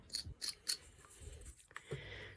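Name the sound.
hand tool carving wood on a face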